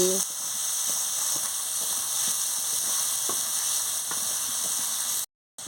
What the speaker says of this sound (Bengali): আলুটা মশলার সঙ্গে দিয়ে দিচ্ছি, দিয়ে ভালো করে কষিয়ে নিচ্ছি